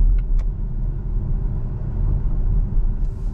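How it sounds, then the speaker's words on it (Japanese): A Volvo XC40 Recharge electric car pulls away and drives, giving a steady, fairly loud low road and tire rumble without a break. No one speaks. "では行ってみましょう。"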